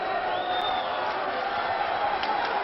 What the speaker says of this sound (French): Le public applaudit Debune.